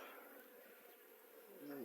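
Honey bees buzzing in a steady close drone at an open hive during a colony inspection, faint overall, with one bee's higher whine rising near the end.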